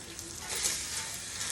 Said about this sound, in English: We got our steak sizzling over here.